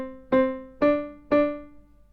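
Three short, evenly spaced staccato piano notes played with a light finger poke on the keys, each a crisp clear attack that fades quickly into near silence before the next.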